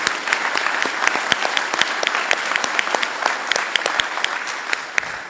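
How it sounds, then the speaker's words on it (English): Audience at a 2015 police honor awards ceremony applauds the police chief, sustained, full-room clapping with crisp individual claps standing out over a dense, steady roar. "Can we please give Chief Height a round of applause for his service?"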